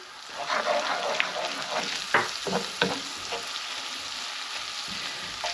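Flour and garlic sizzle steadily in a pan while being stirred, with a constant frying hiss broken by scraping and tapping strokes from the spoon.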